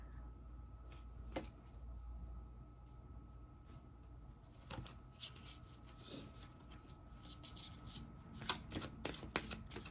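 A tarot card deck is shuffled close by in repeated soft riffling bursts, quiet rustles and slaps that grow busier toward the end.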